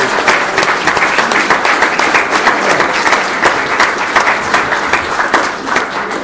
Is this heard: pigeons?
no